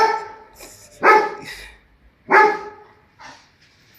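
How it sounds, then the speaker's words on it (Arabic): A dog barks several times in short, spaced bursts, fairly close and alone, with quieter yips between the louder barks. "هو ده الكلب اللي عايزين يحميكوا."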